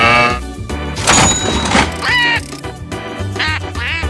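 A cartoon duck quacks several times in quick, lively bursts, loud and close, over busy animated background sounds.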